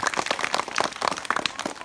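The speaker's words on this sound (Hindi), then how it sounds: "ताली बजाओ जरा।" Schoolchildren at a good touch, bad touch awareness session in a village school clap in scattered, uneven bursts, quick, sharp hand claps of moderate loudness with no talk over them.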